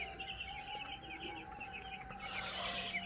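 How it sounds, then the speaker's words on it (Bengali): Young chicks, a rooster and a hen about eight days old, are being weighed on a farm. Continuous high peeping and clucking fills the background at moderate level, growing louder and busier near the end. "আসলে একটা মুরগি আর একটা মোরগ চিহ্নিত করে রাখছি। এটা মোরগ, আগেরটা মুরগি ছিল।"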